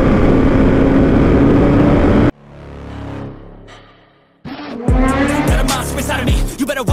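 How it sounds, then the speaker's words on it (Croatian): A 2024 Suzuki GSX 1300R Hayabusa four-cylinder motorcycle: loud wind rush, a brief quieter lull, then the engine revving hard with rising pitch sweeps between gear changes. "četvorocilindraš Hayabusa, nekada najjači motor na svetu"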